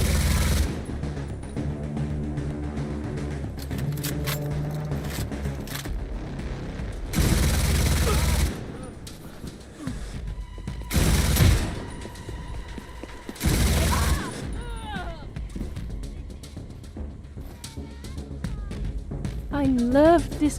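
Bursts of MG42-style machine gun fire in a first-person shooter video game, with several loud volleys over a long stretch of battle noise and a player talking throughout.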